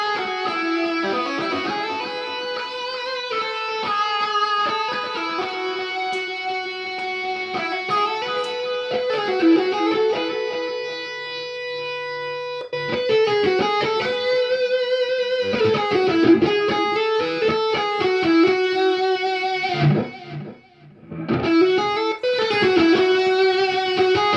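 Electric guitar played through a Positive Grid Spark amp in a distorted tone, sustained chords and melodic lines ringing out loud and continuous for over twenty seconds, with a short drop near the end before playing resumes.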